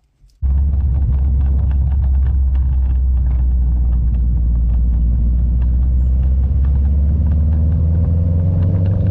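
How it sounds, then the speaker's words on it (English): A Subaru Impreza WRX STI with a 6-speed gearbox and new Whiteline gear linkage bushes on a test drive, its engine a steady loud low rumble from inside the cabin throughout, with no talking. "So I've been driving the car a few minutes now with these new gear linkage bushes."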